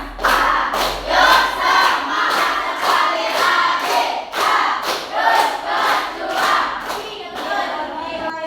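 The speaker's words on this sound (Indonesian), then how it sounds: "Tepuk semangat" Classroom of students doing a rhythmic spirit clap and cheer, loud group claps in a repeating beat pattern mixed with shouted chanting voices all together.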